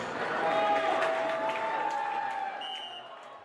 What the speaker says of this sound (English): loud cheering section for the Lady Whitefaces